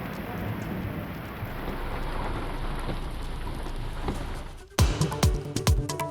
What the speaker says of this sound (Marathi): राज्याच्या अनेक भागात अवकाळी आणि गारपिटीचा तडाखा